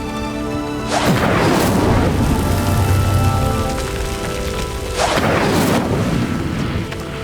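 Incendio fire spell burning a sinking pyre in the Hogwarts Legacy video game, a swelling rushing roar of flames in two loud surges with deep rumbling over a sustained musical score.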